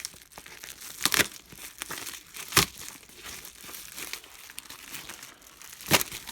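Plastic packaging being unwrapped from an output bin bracket, steady close crinkling with a few sharper loud rustles and tearing bursts scattered throughout.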